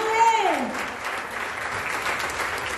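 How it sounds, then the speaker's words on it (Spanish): Applause from the crowd at a political party's municipal swearing-in ceremony in Mexico, a steady wash of clapping running the whole time, with a brief tonal sweep at the start. "aquí es cuando se aplaude"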